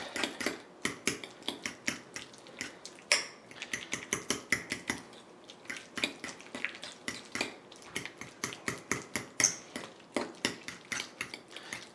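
A utensil stirs and mashes Creole deviled egg filling in a bowl, scraping and clinking against the sides in a rapid, steady rhythm of sharp taps, close up and with no voices.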